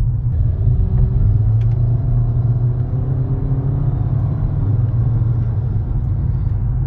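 A 2013-18 Nissan Altima with high miles pulls away under light acceleration, a steady low engine rumble and road drone from inside the cabin holding even throughout, with no one talking.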